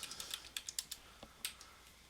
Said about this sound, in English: I'm going to type in an IP address